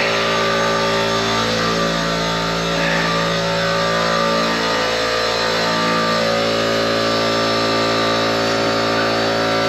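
A steady, loud whine from a drill boring out the rivets on an Audi/VW 02S six-speed differential ring gear, running continuously throughout with only slight changes in pitch.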